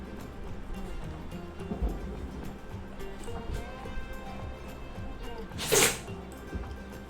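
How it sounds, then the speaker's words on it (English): A dog gives a single short, sharp sneeze partway through, over a steady low background hum and faint shuffling. "That sneezing sound you may have heard is my dog Oreo, who seems to have just sneezed himself"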